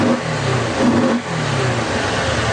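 A fuel-injected 2016 Kawasaki Teryx4 LE side-by-side engine cranks and revs close by, a steady mid-pitched drone with a brief dip partway through before it climbs again, running continuously with no talk.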